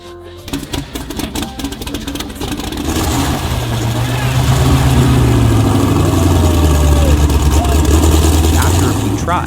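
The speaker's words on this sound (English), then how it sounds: "the engine fired up without any issues and ran very smoothly" A Chevrolet Corvette C6 engine cranks and fires up, then settles into a steady, smooth idle with a deep low rumble that grows fuller and louder, close to the microphone.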